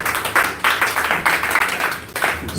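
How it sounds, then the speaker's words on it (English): An audience at a Jju Wikipedia outreach gathering claps in a close, fairly loud round of applause with a rhythmic pulse of bursts, roughly two per second. "Please, let's give him a round of applause"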